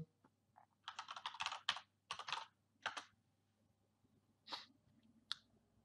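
Rapid bursts of computer keyboard typing, close and crisp, in several clustered runs of keystrokes separated by short pauses, with a couple of isolated key presses near the end and no speech.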